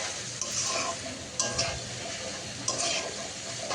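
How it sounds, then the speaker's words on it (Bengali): Egg stir-fried in a pan with tomato sauce and soy sauce gives a steady close sizzle, with a few sharp scrapes and clinks of a spatula stirring against the pan. "ডিমটা সাথে নাড়াচাড়া করে একটু ভেজে নিচ্ছে"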